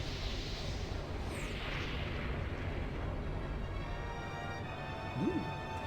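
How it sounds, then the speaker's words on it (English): Moonstone Cannon firing in Skies of Arcadia Legends: a sustained, rumbling barrage of booming blasts rolls on continuously, with a sweeping whoosh early on and a brief sharp burst near the end. "Moonstone Cannon, fire!"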